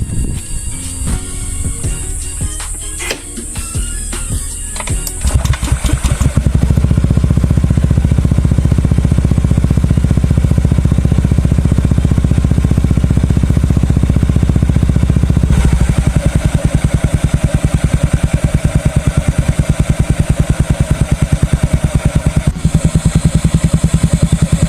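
Honda Beat ESP scooter fitted with a TZM Project aftermarket exhaust, blipped briefly at first and then held in a loud, steady, close-up rev with a buzzy mid engine note and a slight pitch shift partway through.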